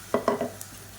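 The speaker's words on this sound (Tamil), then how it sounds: "வெங்காயம் இந்த அளவுக்கு நல்லா வதங்கினதும் மீடியம் சைஸாக ஒரு தக்காளி அடித்து வச்சுருக்குற மிக்சியில் போட்டு அதை சேர்த்துக்கலாம்" Tomato and onion frying in a pan for chicken varuval, with a few quick stirring scrapes over a soft, steady sizzle, close and alone.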